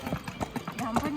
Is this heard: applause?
no